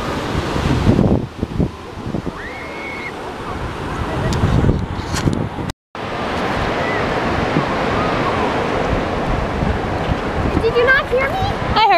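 Ocean surf at Myrtle Beach in June washes in a steady, loud roar with gusts of wind on the microphone, while people talk nearby.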